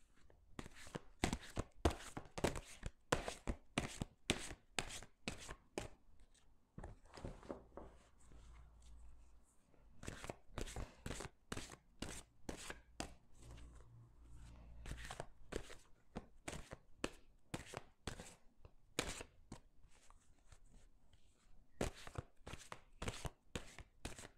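Oracle cards being shuffled and cut by hand, a long run of rapid, crisp card slaps and riffles close to the listener, pausing briefly before resuming in quick bursts with no talking.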